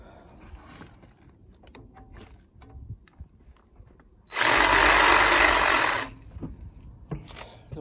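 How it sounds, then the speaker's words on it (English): A power tool whirs steadily for about two seconds while deburring a drilled 9mm hole in a narrowboat build, loud and close, set between quieter clatter and small handling knocks. "so I'm just gonna start to take the burr off"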